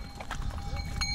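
Horse hooves clip-clop on a muddy mountain trail in Shangri-La, steady close steps over a busy, noisy outdoor background.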